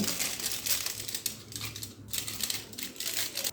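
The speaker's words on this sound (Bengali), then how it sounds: "এরকম একটা ফয়েল পেপার দিয়ে এই কাপগুলো ঢেকে দিতে হবে" Foil sheet crinkling and rustling close up as it is pressed over cups of coconut ice cream, soft continuous crackles with small bursts, quiet and without talk.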